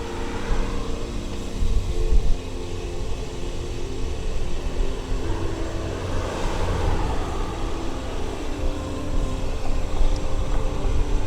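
Vehicles pass near a bike path in Newport Beach, on the way toward historic Balboa Village. A steady, broad traffic roar fills the whole stretch without a break, with no talking.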